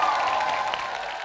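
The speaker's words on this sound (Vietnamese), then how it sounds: "Cho em xin một tràng pháo tay quý vị ơi" A studio audience at a Vietnamese TV show breaks into applause: a brief, steady wash of many hands clapping, close and fairly loud, with a faint crowd murmur underneath.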